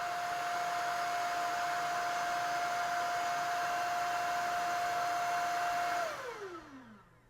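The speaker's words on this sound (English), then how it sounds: "So this is Eco mode on the Vertex Pro." A Shark Vertex Pro cordless stick vacuum in eco mode hums steadily with a high whine and airy rush, then powers down, its pitch sliding lower as it fades out.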